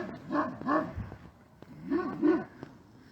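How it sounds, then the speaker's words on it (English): A protective dog barking along a trail in Clinton, two pairs of deep, loud barks separated by a short pause, fairly close, with no talk over them. "So that dog is very protective."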